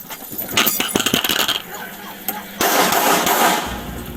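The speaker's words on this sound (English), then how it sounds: "The officer's body camera fell to the ground during the struggle." A police officer's body camera falls to the ground in a struggle, giving a burst of sharp clattering impacts and knocks in the first second and a half, followed by a louder, rough scraping rush of noise.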